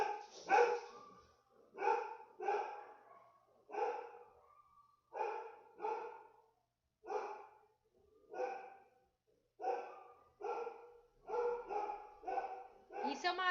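A dog barks repeatedly at home as its owner arrives. Loud, close barks come in steady bursts about a second apart, some doubled, and continue without pause throughout.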